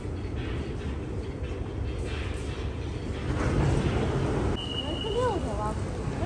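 Bangkok MRT subway train running near Hua Lamphong station, a steady close rumble and rush of the carriage, with an electronic chime near the end.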